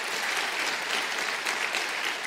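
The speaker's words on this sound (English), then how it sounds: "Let's need a round of applause." Crowd applause at the EVE Fanfest 2025 convention stage: dense, even clapping from a large audience, sustained and fairly loud for a couple of seconds with no talking over it.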